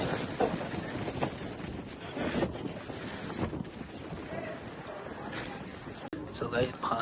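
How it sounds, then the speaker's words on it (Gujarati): Strong wind gusting on Pavagadh hill near the temple, a loud, steady roar buffeting the microphone for the whole stretch, with faint voices beneath it. "પવન કેટલો બધો."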